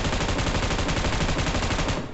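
Rapid, continuous automatic gunfire from PUBG Mobile gameplay, loud and close, with a dense burst of shots that cuts off at the end.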